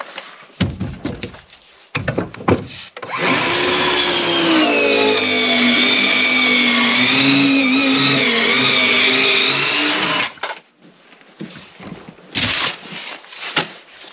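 A power saw cuts decking material on an off-grid tiny-home build. Its motor whines loudly and steadily for about seven seconds, with the pitch wavering under load. Scattered knocks and handling noises come before and after the cut.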